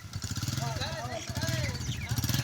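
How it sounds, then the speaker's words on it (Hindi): A motorcycle engine starts and runs with a close, rhythmic pulsing putter while people talk over it. "मोटरसाइकिल स्टार्ट थी गया"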